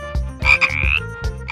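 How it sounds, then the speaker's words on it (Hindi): A frog croaks in rapid repeated bursts, loud and close, with a ringing tonal call rising in the middle and no voices over it. "ये टर्र टर्र की आवाज करता है और मच्छर खाता है।"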